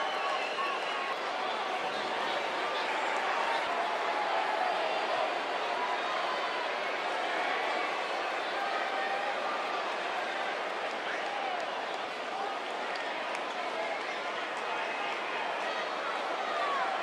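Steady roar of a large arena crowd in the WWE 2K19 wrestling game, a dense continuous wash of cheering and chatter holding at an even level throughout the no-disqualification match.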